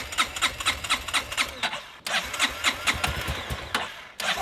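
A dirt bike electric-starting after sitting unused a long time, with the starter motor cranking in a fast rhythmic churn, a brief break, then more cranking, close and loud with no talking.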